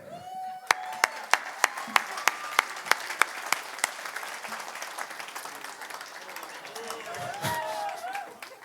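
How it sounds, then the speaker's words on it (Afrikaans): Live show audience applauding a dancer, opening with several sharp, evenly spaced claps before swelling into dense, sustained applause from a crowd. "Dames en here, ek wil 'n reuse applous hê vir my danser vanaand."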